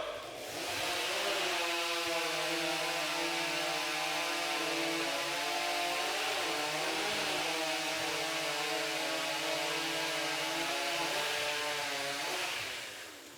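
A STIHL stock chainsaw rips through timber during a Timbersports championship race, with a loud, sustained, high-revving engine whine that holds steady for about twelve seconds before it cuts out, and no voices over it.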